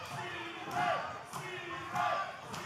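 A wrestling crowd chants at a live independent pro wrestling show, rhythmic rising shouts repeating in two clear pulses with sharp claps or stomps, loud and echoing in an arena.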